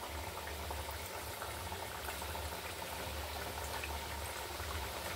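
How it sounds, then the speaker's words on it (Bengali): Chhana jalebi deep-fry in hot oil, giving a steady, dense bubbling hiss that holds at an even level throughout, close and unbroken, with no voices. "দেখুন, এবার জিলাপিগুলো দিয়ে দিলাম এক এক করে। আমি ভালো করে ভেজে নেব।"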